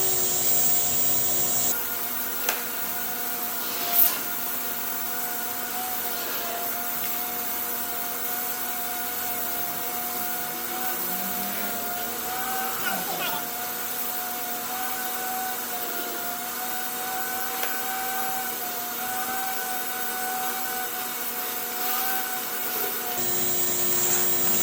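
A shop vacuum running through an Oneida Dust Deputy cyclone separator, pulling fine Corian solid-surface sanding dust, drones at a steady level for the whole stretch with a few faint clicks and rattles and no talking.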